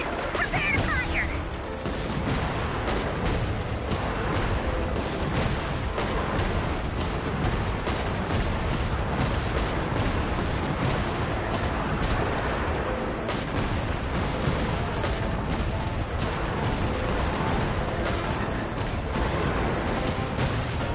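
A robot fires in the Genshin Impact video game, a dense, continuous barrage of rapid booming shots that stays loud from start to finish, with a voice now and then under the noise.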